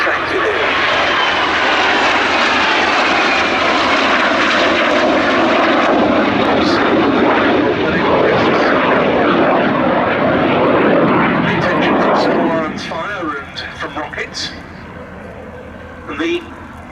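A pair of BAC Strikemaster jet aircraft flying a low-level display at the Duxford summer airshow, a loud sustained engine roar that peaks and then fades away as they pass, with a voice narrating over it.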